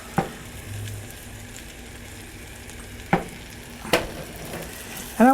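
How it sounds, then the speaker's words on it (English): Chopped onions hit melted butter in a large ceramic saucepan, giving a steady close sizzle and fry throughout, broken by a few sharp clinks and stirring knocks of a utensil against the pan. "My butter is melted. So in goes the onions"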